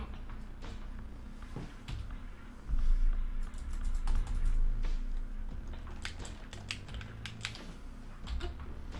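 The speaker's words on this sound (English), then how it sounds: "Yeah, but that's the keyboard. I don't want to use the keyboard." Keys clatter on a computer keyboard in irregular bursts of quick taps, close and fairly loud over a low background hum, with no talk.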